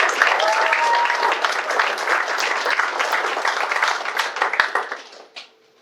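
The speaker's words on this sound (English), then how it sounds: "we invite you to clap, to cheer for each graduate as they receive their diploma" Audience applause at a graduation ceremony, a dense sustained round of clapping that holds steady for several seconds before thinning out and fading near the end.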